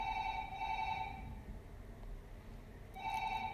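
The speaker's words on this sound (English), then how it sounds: "Sorry about the phone ringing in the background." A telephone rings in the background in two bursts of bright electronic trilling with a pause between, fairly faint under room noise.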